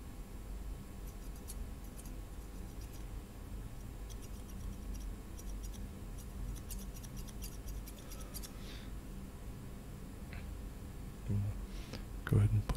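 Soft, rapid snipping of sharp little scissors cutting hair close by in a barbershop, with faint murmured talk and a few light clicks near the end.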